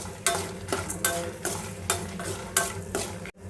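Cumin, coriander seeds and dried red chillies dry-frying in a pan, with a soft steady sizzle and regular scraping stirs of a spoon against the metal, close and quiet, with no talking.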